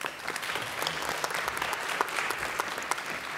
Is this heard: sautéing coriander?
no